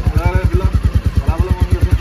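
A newly bought motorcycle, just started, idles with a steady, even throb of low thumps about eight times a second, close and alone.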